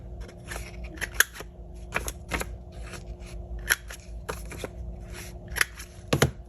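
Scissors or a corner-rounding cutter snipping paper pieces for a handmade journal page, giving sharp, close, crisp clicks and snips in an irregular series, alone without talk.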